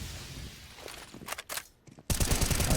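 Gunfire from a Counter-Strike style esports grand final match, with short bursts of shots and a sudden loud barrage toward the end.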